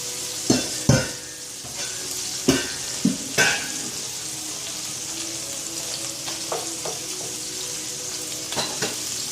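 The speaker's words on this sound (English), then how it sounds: "I'm going to take the lid off and let some of the oil cook off of this." Oil sizzles steadily in an uncovered pan holding steak, with a constant frying hiss broken by several sharp spatter pops and a few utensil clinks near the start and end.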